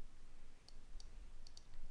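A few faint, sharp computer mouse clicks, spaced irregularly over about a second, in a quiet room with low background hum.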